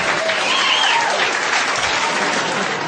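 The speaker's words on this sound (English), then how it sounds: "thank you for faking some extra applause for me too" A stand-up comedy audience applauds steadily, a dense wash of clapping at an even volume throughout, with a faint cheer in the background.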